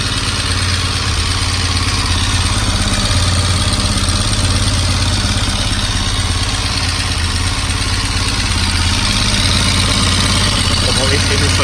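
A Honda RC30 (VFR750R) racing motorcycle engine idles steadily and loudly up close, a deep continuous rumble with a slightly uneven, throbbing pulse throughout.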